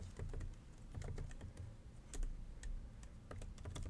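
Fingers type on a computer keyboard in a quick, uneven run of soft clicks and taps, close and fairly quiet, with no talking over it.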